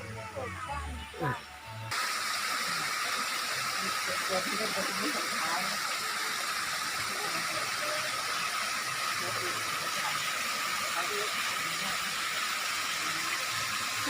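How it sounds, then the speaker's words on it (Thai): An artificial waterfall in a park with dinosaur and robot displays roars in a steady, loud wash of falling water after a brief moment of talk at the start. "เดี๋ยวพาไปดูน้ำตกใกล้ๆนะครับเนาะ"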